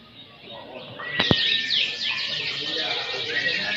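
A canary in a song competition delivers a bright, rapid run of warbling trills and chirps over a low murmur of crowd noise, with one sharp click partway through.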